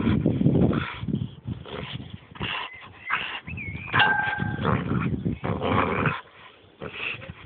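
A dog growls and yips playfully in close range, with short bursts and a whining tone while a person talks to it in Czech.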